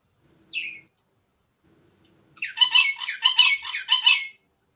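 Green birds squawk close by: one brief call, a pause, then a loud run of harsh, raspy squawks in quick succession.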